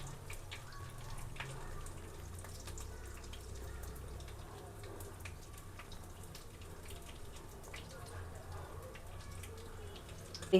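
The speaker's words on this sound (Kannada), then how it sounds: "ಆಯಿಲಲ್ಲಿ ಫ್ರೈ ಮಾಡ್ತಾಯಿದ್ದೀನಿ" Homemade biscuits frying in oil, a soft, steady bubbling sizzle heard faintly and continuously throughout, with no talking over it.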